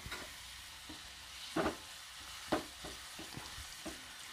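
Pappadam frying in hot coconut oil, a quiet, soft sizzle broken by several short scraping knocks as pieces are stirred and lifted out.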